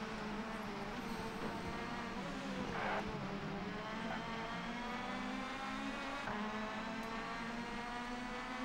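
Touring car engines roar steadily in the PS1 racing game TOCA 2 Touring Cars, a sustained high-revving drone held flat out with slight pitch shifts as the cars race in close pack, alone with no talk.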